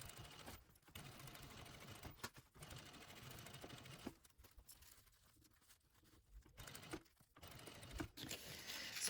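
Sewing machine joining two pieces of fabric for a bias tape binding, running in steady bursts of rapid stitching with short pauses between runs, close and moderately loud with no talking.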